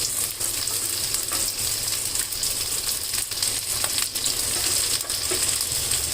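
Mustard seeds spluttering and onions frying in hot oil, a steady loud sizzle with scattered crackling pops throughout, close and continuous without talk.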